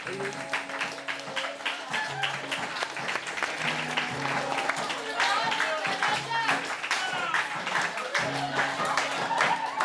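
A group of people claps hands together in a dense, sustained round of applause, steady and fairly close, with a low rhythmic musical tone and voices beneath it.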